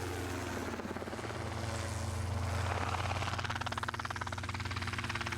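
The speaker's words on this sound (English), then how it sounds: "It's time for Grant, our chopper pilot, to step in." A helicopter flown by a pilot during wildlife game capture in Africa drones steadily nearby, its rotor beat thrumming continuously and swelling slightly louder midway with no voices over it.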